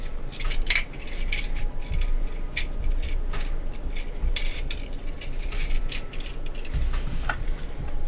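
Plastic Transformers toy parts for Shattered Glass Wheeljack snap and click into place, heard as a string of small, sharp, close clicks and rattles with light handling noise and no talking.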